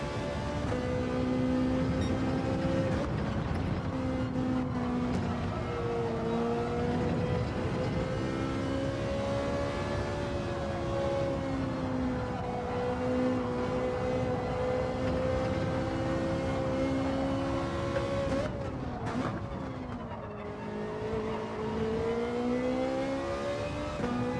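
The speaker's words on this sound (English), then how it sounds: "are you revving the McLaren right out, or are you just changing up about halfway as usual?" McLaren race car engine in a racing video game, revving loudly and continuously with rising and falling pitch through gear changes, close and steady with no talk.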